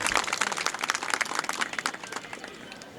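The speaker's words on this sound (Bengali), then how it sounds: "আমাদের মুরব্বীদের জন্য একটা করতালি একটা বড় করতালি" A crowd gives a big round of applause for the community elders at a local cricket tournament event, dense clapping continuing steadily for a few seconds, with some speech mixed in.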